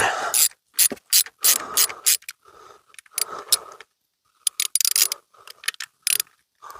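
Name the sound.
ratchet on extender loosening bolts during oil change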